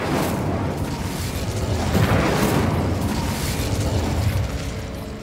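An Incendio fire spell cast in the video game Hogwarts Legacy bursts into a loud, roaring whoosh of flame with a deep rumbling body that swells midway and holds steadily for several seconds.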